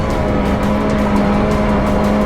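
A turbocharged Suzuki Jimny engine pulls hard uphill in second gear, a loud, sustained droning roar with a steady low hum and no talk.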